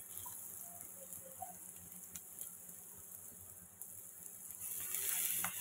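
Gongura (sorrel) leaves sizzle steadily in a hot pan, a faint continuous crackle that swells louder near the end as the leaves are stirred in, with no voices.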